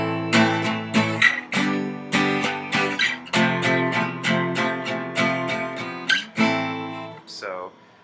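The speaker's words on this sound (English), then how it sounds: "With power chords it sounds like this." Guitar power chords move through a chord progression from a song, strummed in rhythmic bursts with brief pauses, close and moderately loud, alone without speech.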